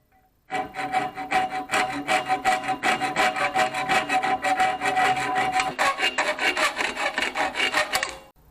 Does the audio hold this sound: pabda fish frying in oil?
no